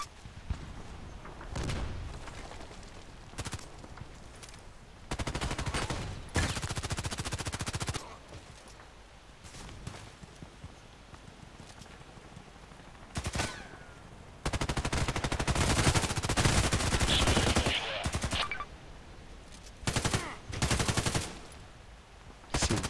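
Automatic weapon fire in the video game Contract Wars, several loud bursts of rapid shots separated by quieter gaps, with thuds and footsteps between them.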